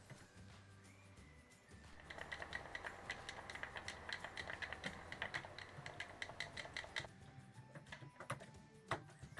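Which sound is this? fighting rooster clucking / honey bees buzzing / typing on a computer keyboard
typing on a computer keyboard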